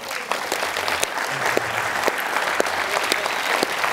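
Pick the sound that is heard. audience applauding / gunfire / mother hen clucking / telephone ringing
audience applauding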